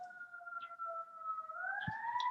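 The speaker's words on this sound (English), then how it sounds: "Sorry, I have a siren." An emergency siren wails outside in a steady two-tone sweep that rises in pitch toward the end, moderately distant, with small scattered noises in the room.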